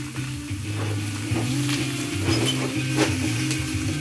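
Zucchini seasoned with salt, pepper and oregano sautés in a pan while a rubber spatula stirs it, producing a soft continuous sizzle with faint scattered scraping clicks over a low kitchen hum.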